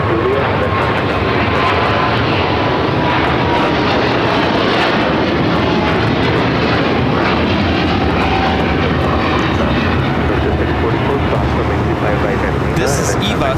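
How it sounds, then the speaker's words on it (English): An EVA Air Boeing 777-300ER takes off at LAX, a loud, steady broadband engine roar that fills the whole stretch, with voices talking over it. "This is Eva, Flight 5, taking off to Taipei on the 777-300ER."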